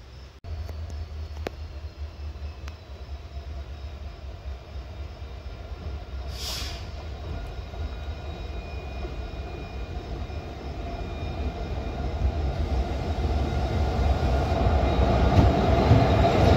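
An Indian Railways WDP-4D diesel locomotive from the Bhagat Ki Kothi shed shunts at a station, giving a steady, loud low engine rumble that slowly builds over the whole stretch, with no voices.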